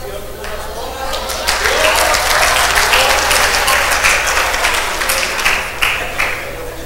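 An audience at a medical lecture on a clinical case gives loud, sustained applause that fills the whole stretch, with dense overlapping claps.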